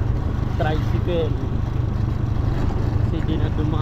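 Tricycle engine droning steadily during a ride in Bicol, Philippines, a close, rumbling motor hum under people talking.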